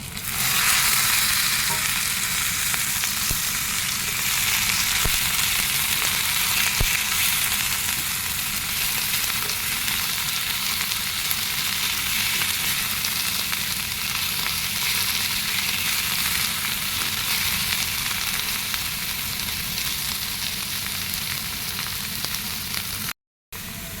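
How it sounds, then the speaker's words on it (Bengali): Kharkol leaves frying in a pan of oil with browned onions, a steady loud sizzle running on without a break and a short drop to silence near the end. "এবার আমি খারকোল পাতা দিয়ে দেবো।"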